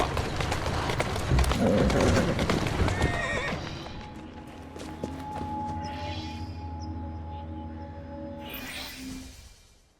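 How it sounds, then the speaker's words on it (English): Horse in the Assassin's Creed Syndicate video game clip-clops loudly at a steady trot, then slows as a neigh or whinny rises near the end over a low ambient drone. "Who's a good horse? You are."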